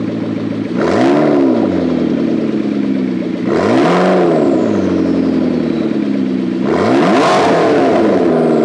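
A McLaren sports car's flat-plane-crank engine blips three times in sharp, loud revs with a rumbling idle between each, recorded up close.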